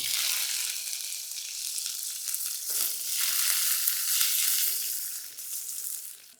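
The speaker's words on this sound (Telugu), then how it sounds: "ఆవాలు ఇలా చిటపట్లాడాలి." Mustard seeds, dry red chilies, cumin and curry leaves crackle and sizzle in hot oil, a steady, fairly loud frying hiss with fine popping that swells midway and continues throughout, with no voices.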